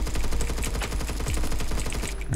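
A Colt LMG in the Roblox shooter Phantom Forces fires one unbroken, rapid stream of shots for the whole stretch, loud and close, with the rounds hammering at an even pace and no voice over it.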